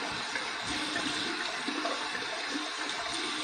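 Running water from a tap pours steadily over a shaving brush being rinsed of lather, a continuous close splashing rush with no talk.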